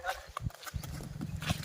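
A mare's hooves clip-clop in an uneven rhythm close by while a rider talks over them.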